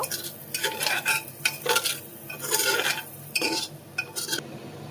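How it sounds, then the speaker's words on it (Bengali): A spoon scrapes and stirs dalia khichuri ingredients with turmeric and cumin powder in a metal pot, a series of rhythmic scraping strokes with light clinks and a faint sizzle, close and clear with no voices. "সবগুলো উপকরণ এখন ভালোভাবে একটু নাড়িয়ে চাড়িয়ে নেব।"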